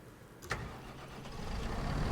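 A tractor engine starts up in a farming simulator game: a sharp cranking burst, then a steadily building engine rumble that grows louder over the next two seconds, with no talking.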